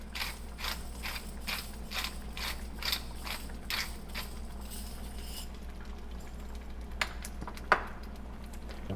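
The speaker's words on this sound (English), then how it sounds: "Grind some more pepper in there." A pepper mill grinds black pepper for a tomato sauce, giving a close, rhythmic ratcheting crunch of about ten quick turns before stopping, followed by a couple of small clicks over a low steady hum.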